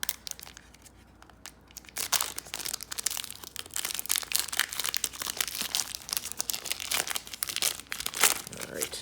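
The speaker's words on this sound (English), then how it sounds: "Let's crack open a few packs here." Booster pack wrappers for a Warhammer WarCry trading card game being torn open, a busy run of crinkling and ripping foil close to the mic that begins after a quiet second or two and continues in rapid bursts.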